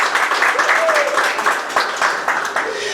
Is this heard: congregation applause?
yes